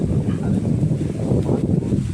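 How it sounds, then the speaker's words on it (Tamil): Strong wind blows steadily through a coconut grove at Kilakarai, a continuous low roaring rush with buffeting gusts against the microphone and no voices. "அதிகமான காற்றாக இருக்குது."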